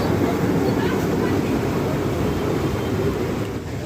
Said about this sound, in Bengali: ট্রেনটি চলতে শুরু করেছে, দর্শক দেখতে পাচ্ছেন।